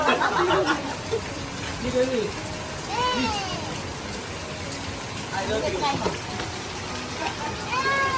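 Steady rain patters throughout, during a storm, while people at a house blessing chatter and call out in the background, with a few bird-like chirps rising over the wash.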